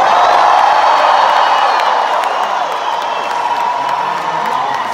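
A large concert crowd cheers and whoops loudly in an arena show, a dense sustained roar with scattered shouts and clapping that eases slightly toward the end.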